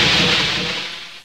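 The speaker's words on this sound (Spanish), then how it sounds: "Vamos a mirar cómo es la de explosión todos, la seleccionamos, reproducir" A single explosion animation sound effect from RPG Maker VX Ace: a loud, bright burst of hissing, crackling noise that decays steadily over about a second and cuts off.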